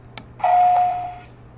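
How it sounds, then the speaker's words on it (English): An electric doorbell in a physics animation sounds one clear, close chime as the iron core strikes the tone bar, a bright sustained tone that rings out and fades over about a second. "So when I click the doorbell button, the circuit will close, which will require the iron core to hit the tone bar"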